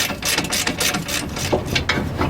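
A ratchet loosens the 13mm bolt on the emergency parking brake bracket of an 2008–2018 Dodge Grand Caravan, giving a steady run of close, rapid mechanical clicks with no voices.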